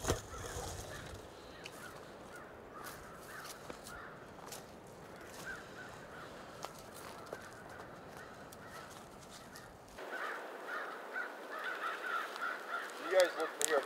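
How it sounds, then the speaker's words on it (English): Crows caw at a distance during a Kansas deer hunt in the morning, their faint, scattered calls rising over a constant outdoor hiss that grows louder toward the end. "I'm gonna go find where those crows are."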